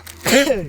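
A single sneeze, a sudden loud burst with a tonal vocal edge lasting under half a second, close to the microphone on a quiet carp-fishing bank.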